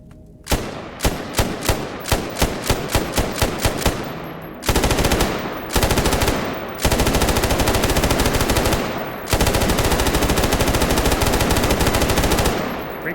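Full-auto gunfire from a rifle in the video game Stalker Gamma: a string of single and short bursts, then long, loud, sustained automatic fire broken by brief pauses.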